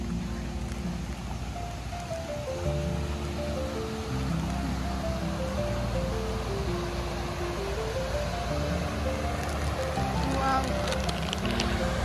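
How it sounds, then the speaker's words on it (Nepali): Steady broadband rush of a stream flowing past a park waterfall area at Tokawa Park, Hadano, continuous and fairly loud throughout, with a faint melodic tone and background sounds layered over it. "पानीको आवाज कस्तो शान्त है"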